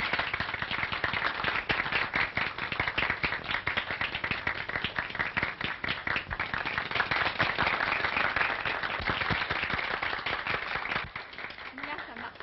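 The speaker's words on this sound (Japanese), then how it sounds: "我々は秋元さんの将来をお祝いして拍手を持ってお送りいたしましょう。" Villagers in an old 1940 Japanese film applaud, a long, dense patter of many hands clapping at close range, steady and crackly throughout with a slight tailing off at the end.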